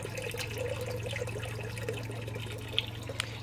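Water drains fast from an aquaponics media bed through a U-Flex siphon, a steady rushing trickle over a constant low hum, with a couple of faint knocks near the end and no talking.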